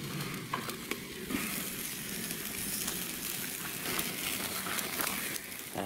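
A big fat steak sizzling on a grill outdoors in the Utah desert, a steady close frying hiss with scattered pops and crackles.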